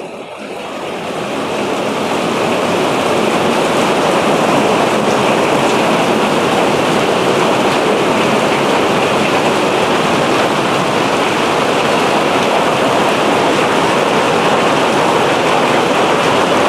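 Steady downpour of heavy rain onto a backyard fish pond, a thick unbroken wash of splashing drops that swells in the first seconds and then holds loud and even.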